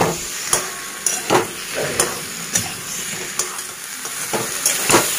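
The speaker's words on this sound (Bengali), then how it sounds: "পেঁয়াজ আর কাঁচা টমেটো, পাকা টমেটো দিয়ে এবার ভালো করে কষাচ্ছি।" Onions with raw and ripe tomatoes are sautéed in a pan, a steady close sizzle broken by regular scraping stirs of a spoon against the pan.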